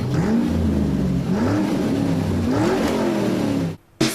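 A 2005 first-generation Ford Everest 4x2 XLT SUV with a 2.5 engine and automatic gearbox, heard close as the engine pulls and rises in pitch through repeated shifts, loud and steady before cutting off abruptly.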